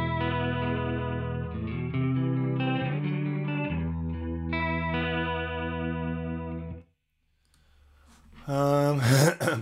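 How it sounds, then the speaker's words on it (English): An instrument runs through a stereo vibrato effect on an Arturia delay plugin, with sustained, wavering chorus-like notes for several seconds, then a near-silent gap before a loud burst at the end. "Stereo vibrato."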